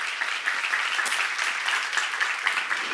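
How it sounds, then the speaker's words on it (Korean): A church seminar audience claps in a lively, fairly close round of applause, with individual hand claps standing out in a quick, slightly uneven rhythm over the whole stretch. "하나님께 박수 한번 쳐"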